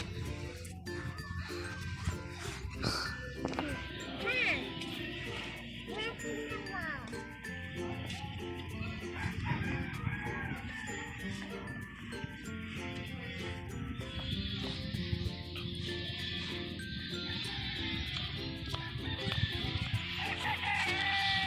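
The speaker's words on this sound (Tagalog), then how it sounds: "Taranak, ang daming ibon doon, oh." Chickens cluck and a rooster crows amid a busy outdoor scene, with light jingling tones and people talking at times.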